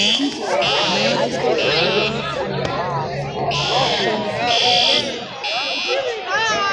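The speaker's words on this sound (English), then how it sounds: "The alarms are Siemens UMMTs, and there's a Spectre Alert Advance over there. That's what you hear." A Siemens UMMT fire alarm blares in a school during a real fire, its harsh buzzing tone pulsing on and off in long bursts while many people chatter and talk loudly nearby.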